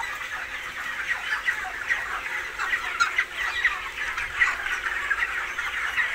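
Broiler chickens on a poultry farm cluck and chatter in a steady, dense chorus of many birds, moderately close and continuing throughout without any talking.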